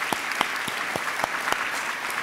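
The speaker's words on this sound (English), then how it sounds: "Can we please give them a round of applause?" Sparse, slow clapping from a school audience at a lower school winter concert for young instrumentalists, individual claps spaced regularly, moderately distant and fairly quiet.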